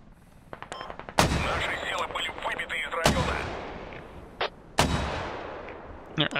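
Mortar rounds land in a military shooter game, three sharp heavy blasts at irregular intervals, each trailing into a rumbling decay, with lighter distant pops and faint voices between them.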